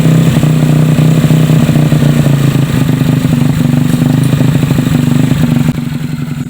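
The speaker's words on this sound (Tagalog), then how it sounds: "binabaan na natin ng kaunti ang kanyang minor at maririnig natin na napakaganda po ang kanyang andar" Motorcycle engine idling steadily after its idle speed has been turned down, a close, continuous low running tone that stays even throughout with no revving and a slight drop in level near the end.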